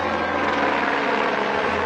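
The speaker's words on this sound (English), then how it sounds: "Italy, France and Norway have responded by sending water-bombing helicopters and planes" A water-bombing helicopter fighting wildfires in Sweden gives a loud, steady rotor and engine roar, close and continuous, with no voices.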